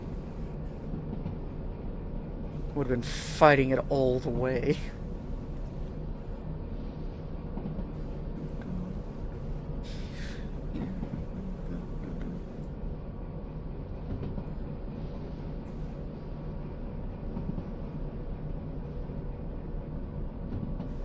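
A train runs along the track with a steady low rumble throughout, carrying some speed downhill, with a brief squeal and clatter early on and someone speaking briefly.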